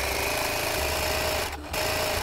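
A sewing machine stitches a folded lace curtain hem, running in a steady, fast mechanical whir with a brief pause near the end.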